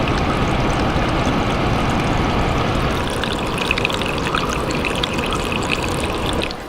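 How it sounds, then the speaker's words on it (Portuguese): Water trickles and splashes inside a Britânia BCL01F air cooler like a small fountain, a loud, close, continuous pouring rush with brighter droplet sparkles in the second half. "Agora eu vou mostrar para vocês aquele som que ele faz de fonte"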